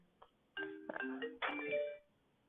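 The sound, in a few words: phone ringing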